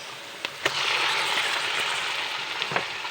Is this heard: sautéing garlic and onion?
yes